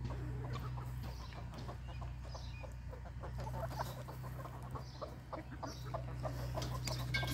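Chickens cluck softly in a barnyard, with scattered short clucks over a steady low hum.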